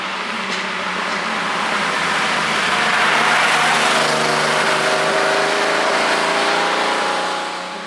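A rare classic Porsche 911 Carrera 3.0, naturally aspirated, on a road test: a loud, steady engine drone that swells as the car pulls, holds for several seconds, then eases slightly, with no voices over it.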